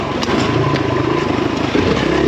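A Kawasaki KLX enduro motorcycle rides a trail, its engine droning loud and close with rough, clattering texture and no talk.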